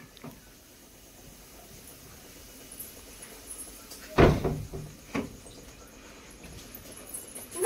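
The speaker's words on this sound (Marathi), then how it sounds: "दरवाजा लावून घ्या आता" A door bangs shut with a single loud thud, followed by a softer knock and faint rattles in an otherwise quiet room.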